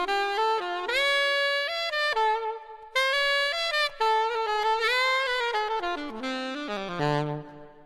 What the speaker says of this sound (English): Would you mention natural seven on a minor? Sounds like this.